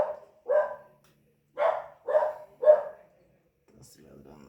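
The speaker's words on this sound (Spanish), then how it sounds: "Estás ladrando de hambre." A hungry dog barks four times in short, close, evenly spaced bursts, followed by a brief stretch of low talking.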